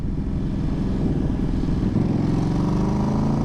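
A 2008 KTM RC8 V-twin sport motorcycle engine roars loudly and steadily under throttle in third gear, a deep rumbling drone held for a few seconds.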